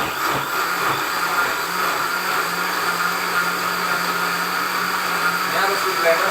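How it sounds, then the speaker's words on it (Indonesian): Kitchen blender whirring steadily as it purees leaves into a smooth blend, a continuous loud motor drone running without pause for several seconds. "Ini harus di blender sampai halus ya, halus dan campur rata"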